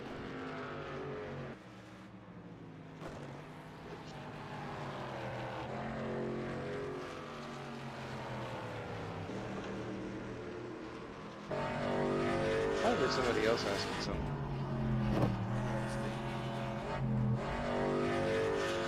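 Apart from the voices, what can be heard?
race car engine in NASCAR Winston Cup video game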